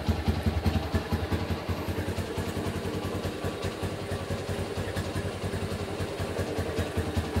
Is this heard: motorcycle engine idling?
yes